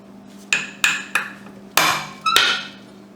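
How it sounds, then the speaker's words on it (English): Five sharp metallic clanks ring out at uneven intervals as the lug nuts on a Chevy Traverse wheel are broken loose, each strike loud and close with a brief ringing decay over a low hum. "the first thing we need to do is break all these lug nuts loose"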